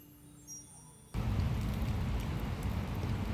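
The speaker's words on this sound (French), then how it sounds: "Le soleil a laissé place à la pluie aujourd'hui" After a quiet moment, steady rain starts suddenly and keeps up as a dense, even hiss with a low rumble beneath, on a cool, wet day in Dublin.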